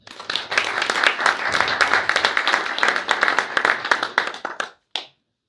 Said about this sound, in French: Merci beaucoup Lydia, si vous voulez bien l'applaudir.